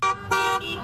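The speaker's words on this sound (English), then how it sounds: "people stay in their cars and honk as they drive" Car horns honk from vehicles driving past a lit display at a Middleton High School drive-by graduation, two loud sustained blasts in quick succession with a third, softer horn trailing off.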